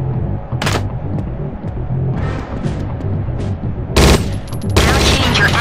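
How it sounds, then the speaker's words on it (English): Gunfire at a firing range in the video game Judge Dredd: Dredd vs. Death, with a few sharp loud shots and short bursts amid game background noise. "Now go to the firing range and shoot the target using your standard bullets."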